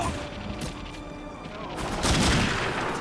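Gunfire in The Darkness 2 video game, shots and crackling bursts building to a louder, denser volley in the second half, close and prominent.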